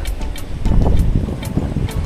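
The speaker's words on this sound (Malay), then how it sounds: "Sini macam angin lagi padu je." Strong sea wind blows at Pulau Rimau during a fishing outing, gusting hard against the microphone with a rough, buffeting rush and faint water beneath, loud throughout.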